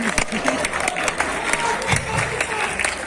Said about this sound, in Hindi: जो गोरखपुर का हो वही ताली बजाए